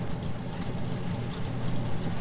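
Vehicle engine running in the farming game Farm Together, a steady low rumble with an even drone throughout, fairly loud and alone with no talking.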